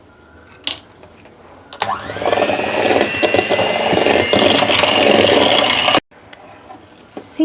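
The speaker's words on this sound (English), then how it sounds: "With this blender, I am going to mix all this." A blender whirs loudly for about four seconds, mixing wheat, jaggery and banana cake batter, its motor starting up with a rising whine and then cutting off abruptly, with quiet kitchen clatter before and after.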